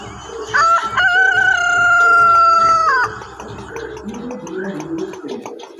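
A human voice mimics a chicken with one long, loud cock-a-doodle crow, followed by softer clucking noises.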